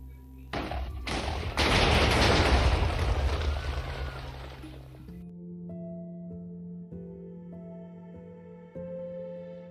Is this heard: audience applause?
no